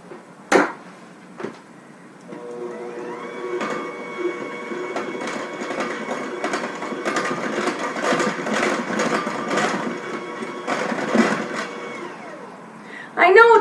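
Dry ingredients for whole wheat pumpkin cookies, including flour and salt, stirred together in a bowl, a steady scraping and rustling mixing sound with a couple of sharp knocks at the start and a louder clatter at the end.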